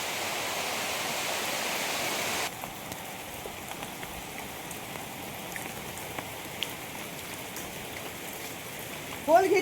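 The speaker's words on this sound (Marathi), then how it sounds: "पाऊस आला" Steady rain falls in a rural village setting, a dense continuous patter that is loudest for the first couple of seconds, then settles into a softer even hiss, with a brief louder rustle at the very end.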